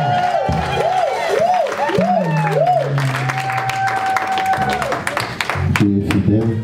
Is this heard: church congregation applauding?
yes